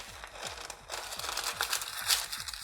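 Parchment paper crinkling and rustling as it is pressed down into a baking pan for a vegan brownie cake, a run of soft close crackles under faint background sounds.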